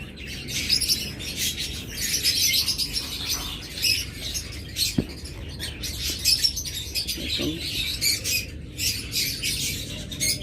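Caged pet birds kept as breeding pairs call and chirp in dense, overlapping bursts, bright and continuous with a few sharper squawks over a low background rumble.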